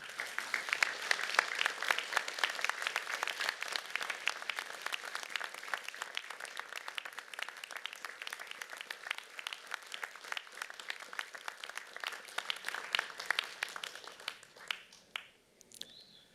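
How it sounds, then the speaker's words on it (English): A large crowd of graduates at a university engineering and IT graduation ceremony claps long and steadily, dense applause filling the hall before tapering off. "give them a rousing round of applause because they too have earned it"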